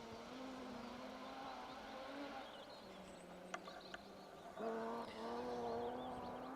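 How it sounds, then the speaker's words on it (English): Two-wheel-drive BMW rally car on a stage of the Plains Rally, its smooth engine note droning steadily at mid distance, rising and swelling louder toward the end as it passes. "Sounds stunning as well, doesn't it? Nice and smooth engine note."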